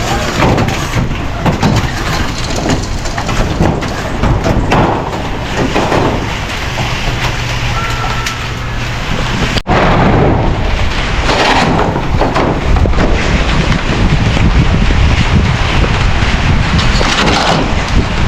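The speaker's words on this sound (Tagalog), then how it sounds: "Ang lakas ng ulan na naman." Dense, steady roar of heavy rain fills the whole stretch, broadband and loud, with a brief dropout midway before the downpour continues unabated.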